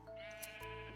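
A single sheep gives a short, nasal bleat in a video game. The call is brief and sits alone over a quiet background.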